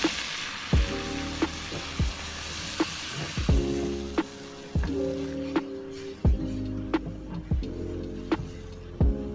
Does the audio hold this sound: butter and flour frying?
yes